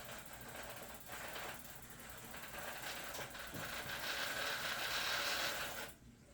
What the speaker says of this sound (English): you're going to go ahead and pedal the bike backwards